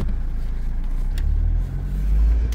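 A 2009 Chevy Malibu with a 4-cylinder engine and 257,000 miles runs steadily, giving a low, continuous engine rumble with a slight swell near the end and no talk over it.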